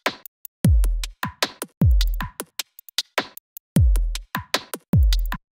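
Electronic drum preset from the Audio Modern Playbeat expansion: a tight, punchy pattern of deep booming kicks, snappy snares and crisp ticking hats, playing alone in a choppy, syncopated groove.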